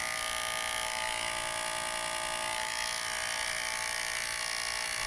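Babyliss Metal Lithium GOLD FX cordless hair clippers run at full power, giving a loud, steady, high-pitched electric buzz that holds constant throughout with no talking.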